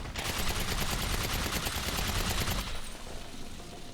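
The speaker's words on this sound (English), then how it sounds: "Now this is the silenced SMG." A silenced SMG firing at barrels in a GTA game, one dense continuous burst of rapid shots lasting nearly three seconds, then a fading tail; loud, close, with no voices.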